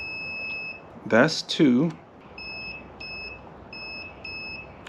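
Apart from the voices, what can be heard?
multimeter continuity test beep on connector pins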